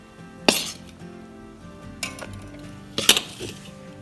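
Spoon clinking against a bowl as powdered sugar is added to frosting for a cinnamon coffee cake, with two sharp, distinct clinks about two and a half seconds apart and a softer tap between them.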